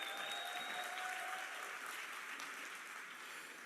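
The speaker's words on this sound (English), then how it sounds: "Give yourself a big round of applause for me" A convention audience in Florida claps in a dense, sustained wave of applause that stays steady and fills a large hall.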